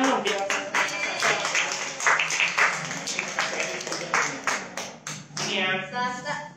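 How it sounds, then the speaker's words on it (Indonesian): Scattered clapping at an online church service, individual claps standing out in uneven bursts rather than a full ovation, with some talk mixed in. "Ayo kasih tepuk tangan dong, biar Sasa."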